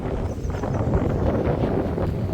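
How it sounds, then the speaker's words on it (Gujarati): Strong wind roars steadily and loudly throughout, a continuous close buffeting rush with no voices. "પવન બહુ છે"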